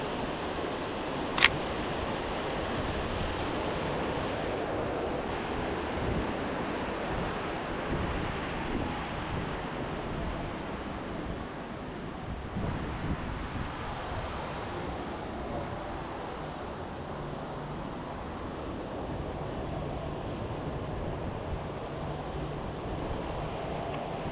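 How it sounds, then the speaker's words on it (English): Steady, broadband rushing water roars without pause, a constant wash of falling water from a waterfall in Pandora at Disney's Animal Kingdom, with a brief sharp click near the start and no voices. "There's another waterfall, but this one's at a different angle."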